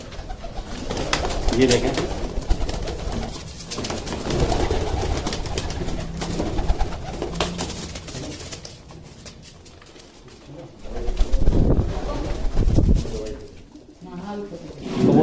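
Pigeons, a fancier's flock kept for hobby, coo in soft repeated bursts close by, while someone talks in Hindi over and between the calls.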